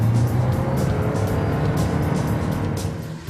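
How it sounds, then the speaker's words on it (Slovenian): Lexus CT 200h hybrid hatchback, a 2011 Sport Premium, its engine droning loudly under hard acceleration through the continuously variable transmission, a steady sustained roar with no talk over it. "zaradi katerega se motor dere."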